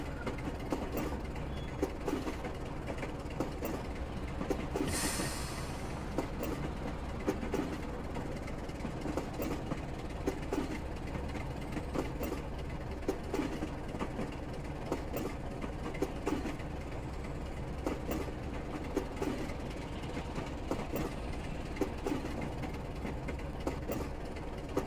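A Class 27 diesel locomotive in Train Simulator Classic rumbles steadily along the line from Ardlui to Fort William, with a low continuous engine drone and faint rhythmic wheel clicks throughout and no voices.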